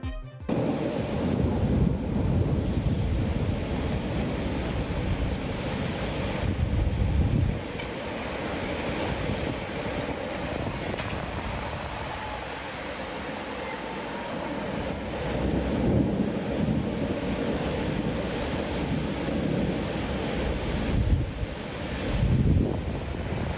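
Stormy weather around the Eiffel Tower in Paris, with a steady roar of wind and rain buffeting the microphone, swelling in broad gusts over a dense, continuous hiss.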